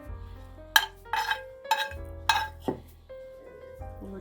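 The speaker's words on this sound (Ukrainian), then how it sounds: "М'ясо наше готове вже з цибулькою, з морковкою, з усім. Я його викидаю в форму." Cooked meat with onion and carrot is tipped into a baking dish, giving a few sharp clinks and knocks of utensil on dish, spaced irregularly over a quiet room.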